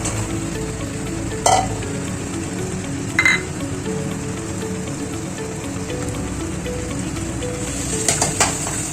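Potatoes tipped into a hot pan of oil and spices for vegetarian aloo dum, frying with a steady sizzle while a spoon stirs, with a few sharp clinks against the pan.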